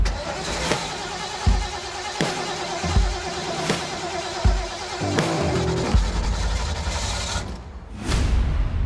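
An old truck driving, its engine loud and close with a steady mid-pitched drone, broken by several sharp knocks and thumps roughly every second, then a brief dip before the engine surges back.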